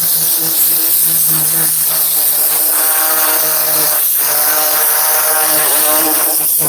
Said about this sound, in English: put the air tool in there is like in the pockets to really release a lot of the grime